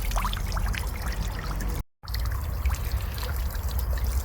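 Water from a solar-powered pond fountain trickles and splashes steadily and close by, with a brief drop-out midway before the continuous patter resumes.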